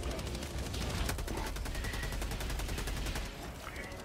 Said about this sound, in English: the fucking machine gun shreds the big guys though